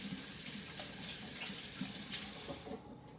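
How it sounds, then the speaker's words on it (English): Hands being rinsed under a running kitchen tap, a steady close rush of water with light splashing and small fluctuations as the hands move through the stream. "I'm gonna rinse off my hands."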